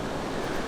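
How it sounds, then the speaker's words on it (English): Surf rolling in on the beach at Caloundra on the Sunshine Coast, a steady broadband wash of breaking waves with some wind rumble, continuous and fairly loud with no voices. "enjoy a nice day at the beach"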